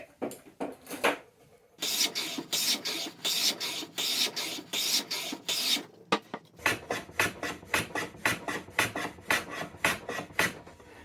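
Hand filing to square up cut wood pieces for a pull-out spice rack, heard as long rhythmic rasping strokes, first in a steady run and then in quicker, evenly spaced passes, close and loud.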